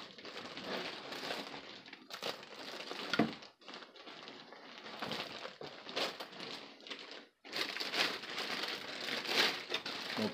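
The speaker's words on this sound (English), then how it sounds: "We'll take the plastic off and get a peek at this sweet looking body." Crinkly plastic wrap peeled off a Traxxas TRX4 Bronco RC truck body, close bursts of crackling and rustling with brief pauses between pulls.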